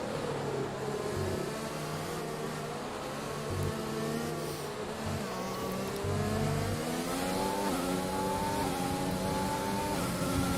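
A race car in a Mexico GP online racing video game screams under acceleration, its engine pitch climbing and dropping with gear changes, loud and continuous with no voices.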